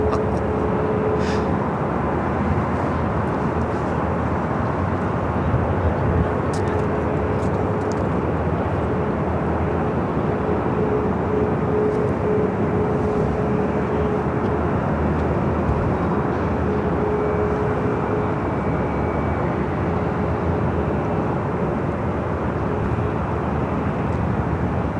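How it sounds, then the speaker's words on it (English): A KLM Boeing 777-200ER taking off from the north side at LAX, a loud steady roar of jet engines, constant throughout and heard from fairly close by. "KLM flight 602 heading to Amsterdam at 777-200ER, heading up here for north side takeoff."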